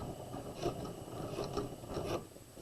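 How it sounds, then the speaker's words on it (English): A sewing machine back stitching the top of a tote bag lining pocket gives a soft, close mechanical rasp and whir with faint repeating ticks, moving in short, uneven pulses. "We're going to start at the top of our pocket, and we're going to back stitch."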